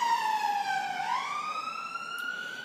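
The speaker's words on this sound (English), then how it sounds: "Siren, sorry." A loud emergency siren wails nearby, its pitch sliding down and then sweeping back up in one continuous tone.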